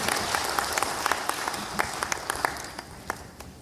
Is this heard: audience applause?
yes